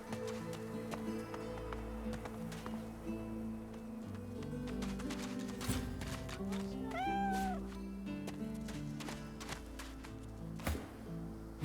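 A cat meows in a fantasy role-playing game, Divinity: Original Sin 2, a short rising-falling call amid soft game music and ambient effects, with someone talking nearby.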